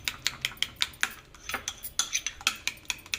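A utensil stirs and scrapes facial cream mixed with sandalwood powder in a small container, a quick series of sharp clinks and taps, close and fairly quiet, with no speech.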